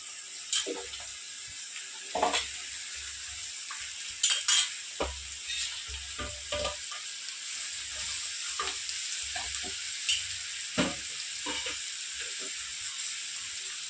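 Ridge gourd stir-fried in a pan, with a spatula scraping and tossing in irregular strokes over a low, constant sizzle.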